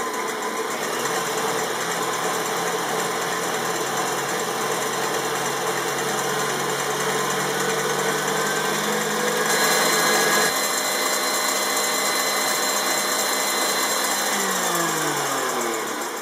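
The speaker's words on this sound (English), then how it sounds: "I'm going to beat it until it starts to foam, and then I'll gradually increase the speed to high." An electric mixer beats egg whites and salt for a chocolate pudding cake, a steady, loud motor whine and whir that holds evenly and then shifts pitch partway through as the speed rises.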